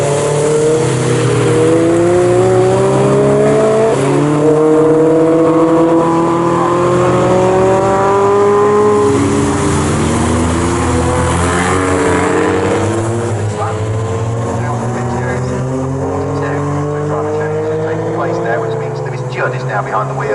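Race cars in a BRSCC Clubsport Trophy club race at Snetterton, engines droning loudly and shifting pitch as cars pass and head toward the pit lane, under continuous commentary.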